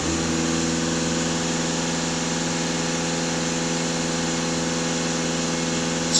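A Volkswagen Passat B8 engine with a cooling-temperature fault idles steadily up close, giving a continuous, even hum with a smooth, unchanging rumble for the whole stretch.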